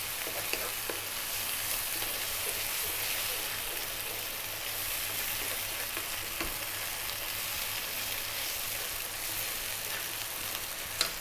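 Cream and Parmesan sauce bubbling hard on high heat in a pan, a steady, dense sizzle holding level from start to finish with no talking.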